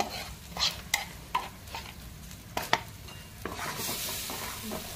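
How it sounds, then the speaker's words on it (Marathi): Patvadi batter stirred slowly in a pan on the stove, with soft scraping strokes and light knocks of the spoon, a faint sizzle underneath, no voices. "आता हे याच्यामध्ये सोडून घ्यायचं आणि हळूहळू हलवायचं, जेणेकरून त्याच्यामध्ये गुठली नाही झाली पाहिजे"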